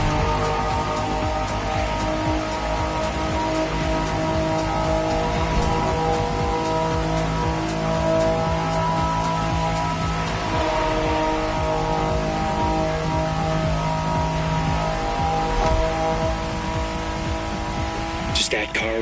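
A Liberty Walk 1992 Honda NSX driving in The Crew Motorfest, its engine holding a steady, loud, sustained drone with slight rises in pitch, while a voice talks over it throughout.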